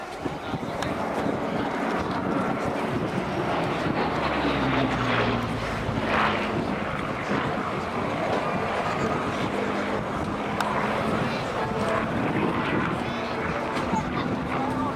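A Hawker Hurricane's engine drones steadily through the whole stretch, a broad, even roar at an air show with a long pitch sweep around the middle, while a voice talks over it.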